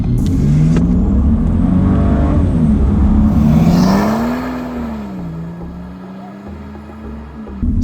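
A stock Ford F6 Typhoon with a turbocharged 4-litre engine and a middle muffler delete accelerates. The loud, close engine drone climbs in pitch with turbo whir above it, dips briefly, then settles into a lower steady cruise.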